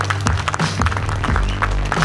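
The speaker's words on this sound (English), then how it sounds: "Applause for that wonderful film." Audience applause in a hall after a film screening at the 16th Oakland International Film Festival 2018, loud dense clapping from a crowd, continuous and close.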